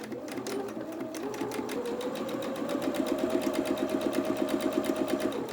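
A sewing machine stitches a seam in plastic mesh fabric for a doll's dress, its needle running in a fast, even, close-up chatter that holds steady and grows slightly louder.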